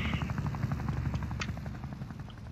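A helicopter in the video game Wobbly Life flies with a steady rapid rotor chop, close and continuous throughout a short stretch.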